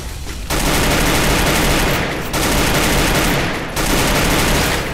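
Loud, dense bursts of automatic gunfire in the Free Fire battle game come in three long volleys separated by short gaps, filling the space throughout.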